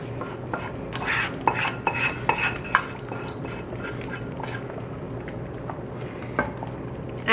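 Hot tadka tempering goes into boiling mixed dal and is stirred in a pot, with a continuous bubbling, liquid churn and repeated metal spoon scrapes and clinks against the pan.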